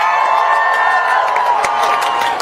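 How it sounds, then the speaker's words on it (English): A rally crowd responding to an immigrant rights group's introduction claps and cheers loudly and continuously, whoops rising over dense applause. "I knew there'd be big applause for that."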